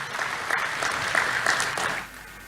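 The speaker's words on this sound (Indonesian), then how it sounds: "Tepuk tangan buat Tuhan Yesus." A church congregation claps together during a sermon, a brisk rhythmic round of applause that carries for two seconds before cutting off sharply.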